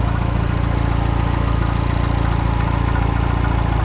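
A Citroen DS3 engine idles after a turbo upgrade, a steady, even rumble with a faint rhythmic tick, close up and constant throughout with no talking.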